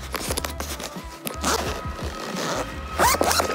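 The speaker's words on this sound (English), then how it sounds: "Zipper twist test." A zipper on a Chanel resin bi-color chain flap bag being pulled open and twisted in several short, scratchy runs, close up, with some handling noise and soft rustling between pulls.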